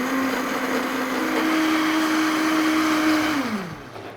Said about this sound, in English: you do need a strong blender to really make it like super pulverized and very smooth